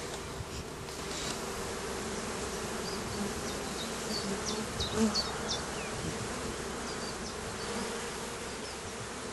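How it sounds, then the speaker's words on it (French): A dense, continuous hum of many honeybees buzzing in June fills the air, steady and close, with occasional louder passes of individual insects. "Les abeilles sont à fond."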